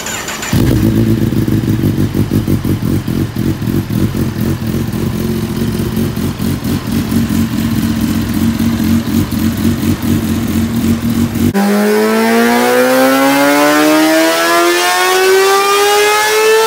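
A 2020 Kawasaki ZX10R drag bike revving hard on a dyno, its engine holding a loud, steady high-rpm drone, then rising sharply through the gears near the end, close and alone.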